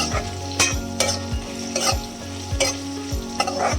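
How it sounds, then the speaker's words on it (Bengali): Potatoes frying for sago pulao sizzle steadily in a pan while a spoon stirs them in quick, regular scraping strokes, close and loud with no voices. "ব্যাস এবার একটু নেড়ে নিচ্ছি।"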